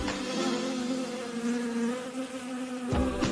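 Bees buzz in a steady, droning hum that stays close and constant throughout, with a brief shift in tone near the end.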